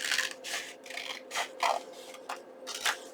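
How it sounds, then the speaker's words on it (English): Several crisp scissor snips cut through paper, spaced irregularly with short pauses between them, close and fairly quiet. "So scissors, and I'm just going to trim this just like this."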